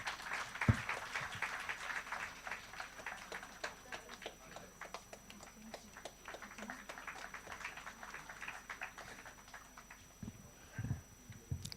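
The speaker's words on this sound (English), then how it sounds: "Can we have a round of applause, please?" Applause fills a hall at a conference inauguration: a faint, steady patter of many hands clapping together that continues throughout, distant and somewhat muffled, with a few louder knocks near the start and end.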